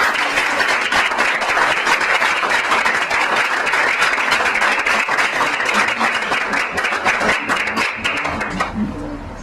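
A hall audience applauds the winner of a thesis competition with loud, dense, steady clapping that carries on for several seconds and then tapers off near the end.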